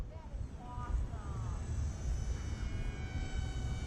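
A Z51 Predator beginner RC plane flying over water on a calm, windless night, its small electric motor whining steadily at a distance under the surrounding ambience, with faint pitch-shifting tones as it passes.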